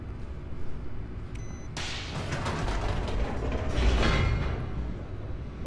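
Office elevator machinery in The Stanley Parable video game, a steady mechanical rumble with creaking, ratcheting texture that swells midway and stays loud throughout, with no talking.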